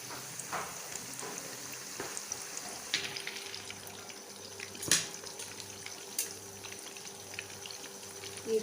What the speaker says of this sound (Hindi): एक तरफ से ये फ्राई हो जाते हैं